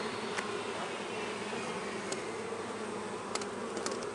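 Honey bees buzzing densely around an open hive, a continuous close swarm drone with occasional individual bees zipping past the listener, no voices.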